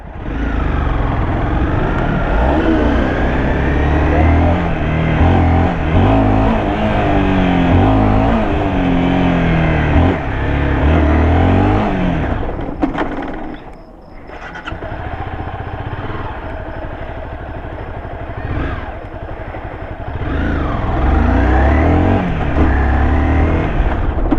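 A Honda CBR 250R with a Repsol exhaust revs hard nearby, the engine climbing and falling in loud sweeps, dropping out for a moment, then revving again with crackling pops.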